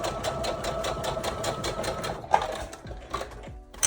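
Sewing machine stitching lace appliqués onto a wedding dress, a fast steady mechanical rattle of needle strokes close up, then slowing and stopping in a few clicks near the end.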